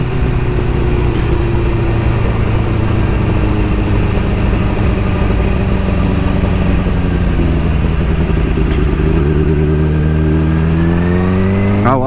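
A motorcycle ridden through a turn on a cold day, with a steady, loud engine drone and heavy wind buffeting throughout; the engine note shifts and rises near the end as the rider accelerates out of the bend.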